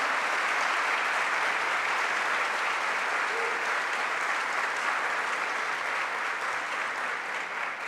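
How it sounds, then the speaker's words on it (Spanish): Sustained applause from a conference audience at the Santo Domingo book fair, a dense, even roar of many hands clapping steadily for several seconds, heard alone without talk. "quiero un aplauso para ella"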